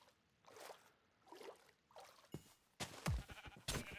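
Sheep bleat in the video game RLCraft, with a few short cries and thuds spaced across a quiet background, followed by louder game impact sounds near the end.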